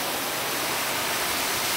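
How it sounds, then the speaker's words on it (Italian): Heavy water of Staubbach Falls, a waterfall about 100 metres high, roars from close behind the falling curtain as a dense, steady broadband rush with no breaks, drowning out everything else. "Sì, una sega, siamo dietro la cascata."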